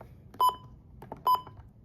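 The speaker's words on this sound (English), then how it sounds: "we're gonna do the button beeps real quick" A Midland WR120 weather radio gives two short, sharp electronic button beeps, evenly spaced and fairly faint, with light handling clicks between them.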